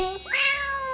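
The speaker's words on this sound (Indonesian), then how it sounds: "Meow. Ketika lapar." A cat gives one short, rising-then-falling meow, clear and close, with nothing else around it.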